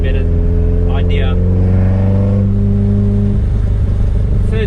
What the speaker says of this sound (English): I'm going to do a 1 gear pull, third gear, from 3000 all the way to red line.